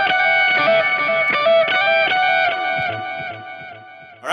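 Electric guitar plays its part for a worship song with all effects engaged, shimmering sustained notes ringing together over a steady strummed pulse, then fading toward the end with no voices.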